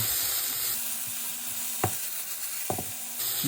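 Eggplant and garlic stir-frying in a pan, a steady close sizzle and hiss broken by a few sharp scrapes and clacks of the utensil against the pan.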